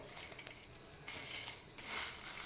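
Chana dal crackles and sizzles in hot sesame oil in a pan, a continuous close frying hiss with occasional louder spits and stirring scrapes.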